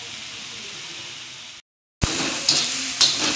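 Ridge gourd thecha sizzles and fries in oil while being stirred, a steady broadband hiss broken by a brief silent gap, then louder frying with a few sharp scraping clinks of the spatula.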